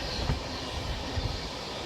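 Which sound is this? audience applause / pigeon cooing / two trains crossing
two trains crossing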